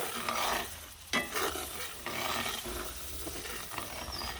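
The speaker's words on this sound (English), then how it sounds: "we're just going to add a little at a time. Keep it stirred." Sausage gravy being stirred in a cast iron pan on a Blackstone griddle, with a steady scraping stir over a soft sizzle, close and continuous, a sharper clank near the start.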